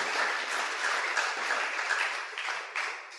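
A church congregation applauds steadily, a dense patter of many hands clapping together, moderately distant, with no voices.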